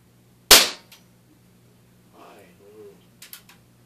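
A Daisy air gun fires a single .22 wadcutter pellet with one sharp, loud crack close by, followed by faint small clicks and quiet handling noises.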